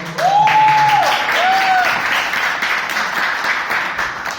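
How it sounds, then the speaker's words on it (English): Steady applause from a crowd at a Toastmasters club meeting fills the clip, with a whistle-like tone sliding in near the start and a few voices mixed under the clapping. "Huge round of applause."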